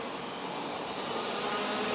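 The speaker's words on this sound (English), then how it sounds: "Good horsepower from the TM engine." A racing kart with a TM engine howls past during an OK-class final of the WSK Euro Series, a steady, loud, high-revving drone with no voices.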